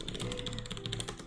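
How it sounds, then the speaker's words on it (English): Rapid, clattering keystrokes on a loud, colorful computer keyboard, close up and continuous over a low background hum. "I'm typing very loud,"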